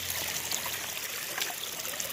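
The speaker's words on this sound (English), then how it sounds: "Coming to the waterfall," Water spilling over a small pond waterfall, a close, continuous trickling and splashing rush that holds steady throughout with no voices.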